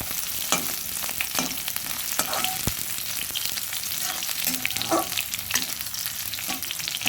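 Garlic and green chillies frying in oil in a pan for a beetroot fry, giving a steady, close, dense sizzle with a few soft spatula scrapes and taps throughout.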